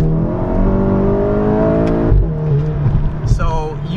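A tuned VW MK7 GTI accelerates hard in second gear, its engine note climbing steadily and loud up close, then dipping and surging with slight wheel slip as traction control intervenes; a voice talks over it.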